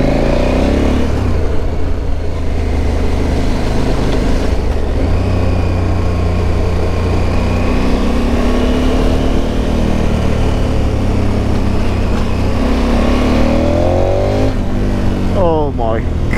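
KTM Super Adventure 1290 motorcycle engine roaring steadily and loudly throughout, building as the bike pulls hard, with a rider's voice heard over it.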